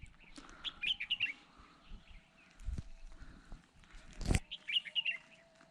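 Small birds chirp in quick bursts of high tweets, with a couple of soft thuds and rustles nearby in an otherwise quiet outdoor setting at Nala Muslamana, Pakistan.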